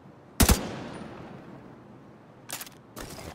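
Gunfire in the video game The Division 2: a sharp, loud burst of shots up front, then two quieter, shorter bursts a couple of seconds later over a low background hum.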